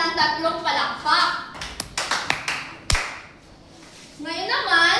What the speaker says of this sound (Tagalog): bigyan natin siya ng 3 palakpak